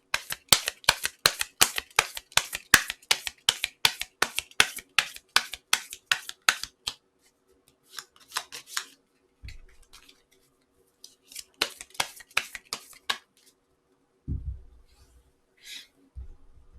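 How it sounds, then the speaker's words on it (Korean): Tarot cards shuffled and drawn: a rapid, even run of crisp card riffles up close, then scattered bursts of flicks and slides with a few soft thumps between pauses. "한번 좋은 카드 한번 뽑아보도록 하죠"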